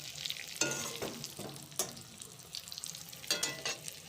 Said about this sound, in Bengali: পটলটা প্রায় ভাজা হয়ে যাওয়ার পরে আমি উপর থেকে পোস্তগুলো ছড়িয়ে দিচ্ছি। তো পোস্তগুলো ছড়িয়ে দেওয়ার পরে আবারও আমি সুন্দর করে নাড়াচাড়া করে নেব।